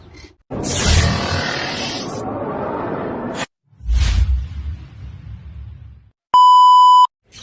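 A pigeon racing clock gives one loud, steady electronic beep lasting under a second as a bird returns from a 1,000 km final race, after bursts of noisy rustling and handling sounds.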